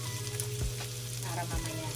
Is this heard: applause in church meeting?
no